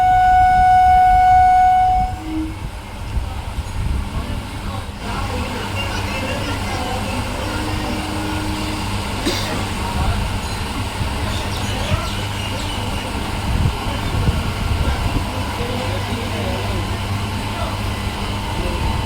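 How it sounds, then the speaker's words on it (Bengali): A train pulls out of a station, opening with a loud horn blast, then a steady rumbling roll of cars and wheels that carries on at middle distance, with a brief squeal along the way. "ছেড়ে দিল এবার ট্রেন।"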